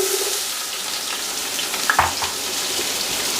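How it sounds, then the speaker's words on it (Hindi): Onions frying in hot ghee in a cooking pot: a steady, close sizzle with faint stirring scrapes, with no talk over it. "घी मेरा गर्म हो गया है, तो अभी मैं इसमें डालूंगा प्याज।"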